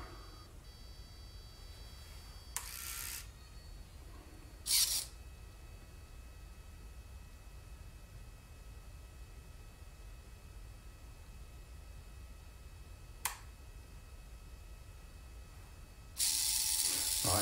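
Retracting landing gear and closing doors on an RC Lockheed Electra model, heard as a few brief mechanical ratchet-like whirs and clicks spread over a quiet background, with a louder burst near the end.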